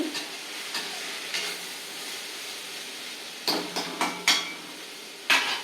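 Cluster beans sauté in a pan with a soft continuous sizzle, interrupted by a series of sharp clinks and scrapes from a utensil stirring against the pan, most frequent near the end.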